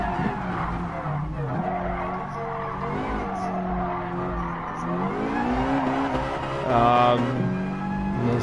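A racing car skids with tires squealing, a sustained harsh screech with a rumbling engine underneath, loud and continuous throughout, with voices faintly mixed in.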